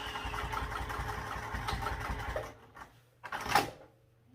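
A sewing machine back stitching a backpack hums in a steady mechanical run for a couple of seconds, then stops, followed by a few short bursts and handling noises.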